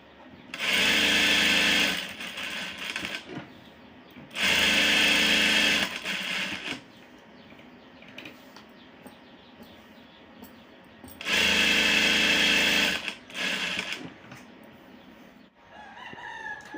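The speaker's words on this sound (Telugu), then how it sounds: "ఇది మొత్తం కూడా ఇలా కుట్టేసుకోవాలి" Sewing machine stitching piping for a tissue saree, heard in three loud bursts of fast whirring with quiet pauses between them.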